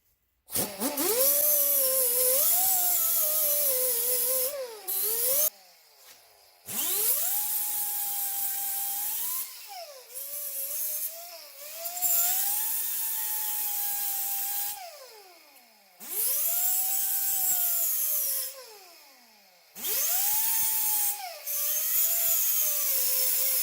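A power sander whines in long, continuous bursts on dusty van bodywork, its pitch dipping and rising as pressure changes, with short pauses between passes, close and loud.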